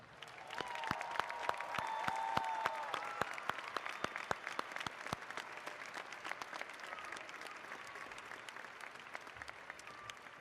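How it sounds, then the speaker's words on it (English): Applause from a large graduation audience in an arena rises and swells, a distant, fairly faint bed of many hands with sharp individual claps popping out, then settles into steadier clapping. "a round of applause."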